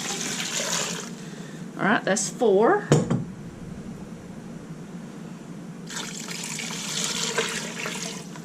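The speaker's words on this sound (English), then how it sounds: "the last thing you're going to put in is 8 cups of cold water" Cold water is poured into an Instant Pot for chicken bone broth, a steady splashing stream at the start and again near the end, with a person speaking briefly between the pours.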